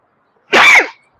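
A single sharp sneeze bursts out close by, loud and brief, rising quickly and trailing off in under half a second, with no talking over it.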